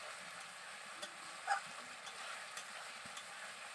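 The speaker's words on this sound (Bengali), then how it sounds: "টমেটোটা দিয়ে ভালো করে আবারও কষিয়ে নিতে হবে" Tomato and spices sauté in a pan for potol chingri, a faint, even sizzle with a soft scrape or two of stirring and no voices.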